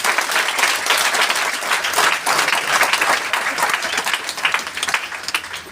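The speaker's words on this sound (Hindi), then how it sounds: "एक जोरदार ताली आप सबके लिए।" An audience at a talk breaks into loud, sustained applause, dense clapping filling the room without letup.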